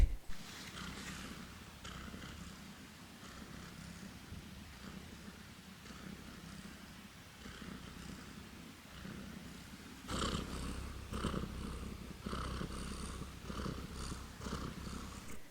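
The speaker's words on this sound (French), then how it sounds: "on va passer au ronronnement de Prunelle, qui ronronne un peu moins souvent et c'est un peu plus discret" A black cat named Prunelle purrs softly and steadily, a low rhythmic rumble that swells louder in the second half, close and alone without talk.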